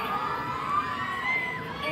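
A crowd at a beauty pageant cheers and shouts loudly, with high children's voices in the mix, a dense sustained roar with no break.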